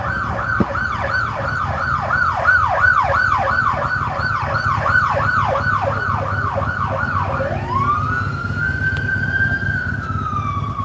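Emergency vehicle sirens in Austin wail loudly, cycling rapidly up and down, then shifting to a long steady rising wail, over a constant low traffic rumble.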